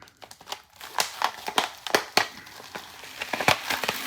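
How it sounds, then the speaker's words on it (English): Wire being cut and pulled from the roots of a Japanese maple bonsai air layer, heard as a run of sharp close snips and crinkling crackles in an irregular rhythm. "Cut the wire."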